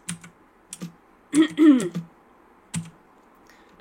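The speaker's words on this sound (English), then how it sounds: "why the heck is she using her keyboard still to move stuff around in here?" Typing on a computer keyboard comes in short, irregular clusters of clicks and taps, close and moderately loud, with a brief spoken word in between.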